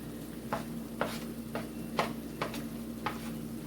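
Cilantro, thyme, sweet peppers and garlic stirred together for Caribbean pig feet souse, a series of soft spaced scraping and clinking strokes, about six, over a low steady hum.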